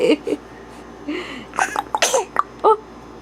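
A 10-week-old baby gives a few small, sharp sneezes close up, short bursts mixed with soft baby noises and an adult's quiet voice.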